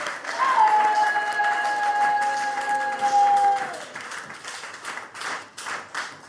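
Congregation clapping in church during a worship service, a broad, sustained wash of many hands at moderate level under a held whistle-like tone, then growing uneven and fading in waves.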